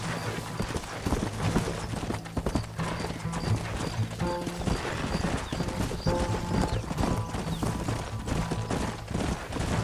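Horses gallop in the Western video game Red Dead Redemption, a dense steady clatter of hoofbeats with occasional whinnies and scattered gunshots, all continuous for the whole stretch.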